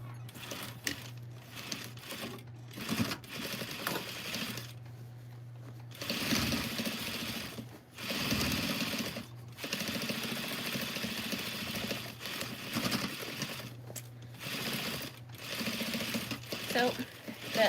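A sewing machine stitches a seam on pants being altered, a fast steady whirring hum in several runs broken by short pauses, with a person talking over parts of it.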